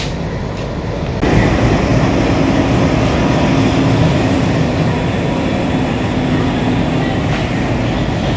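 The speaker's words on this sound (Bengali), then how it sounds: "হাওড়া লোকোশেডের ইঞ্জিন এগারো চারশো আটানব্বই থ্রি ডি দর্শনা জংশনে আসলে বাংলাদেশ এবং ভারতের লোকোমোটিভের মিলন মেলা দেখা যায়" Indian locomotive from the Howrah loco shed, engine 11498, rumbling steadily and loudly at Darshana junction railway station in Bangladesh, a continuous close train roar with faint clickety-clack running throughout.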